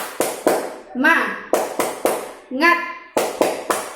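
Young kindergarten children perform a rhythmic spirit clap in class, sharp hand claps in a steady pattern broken by two short chanted shouts from the group, close and loud.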